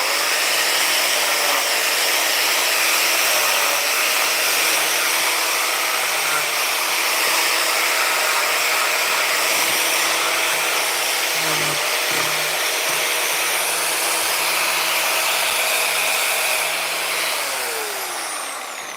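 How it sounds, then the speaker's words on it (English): Angle grinder fitted with a sanding disc grinds down wooden screw-hole plugs, a steady loud high whine with a constant motor hum that runs almost unbroken throughout, winding down slightly at the end. "it's a sander, it's just an angle grinder with a sanding disc in it"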